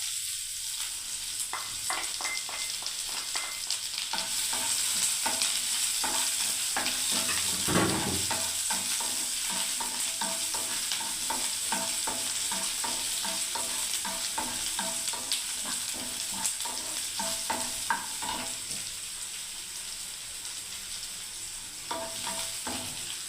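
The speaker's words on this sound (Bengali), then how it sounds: "আমি পেঁয়াজটার আগে ভালো করে লাল করে ভেজে নেবো" Onions frying in hot oil in a pan until browned, a continuous close sizzle with frequent rhythmic stirring scrapes and taps of a spoon throughout, fairly quiet overall, no voices.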